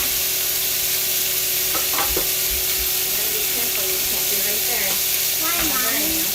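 Food frying and splattering in a pan on a home porch, a steady loud sizzle with crackling pops throughout, while voices speak faintly in the background.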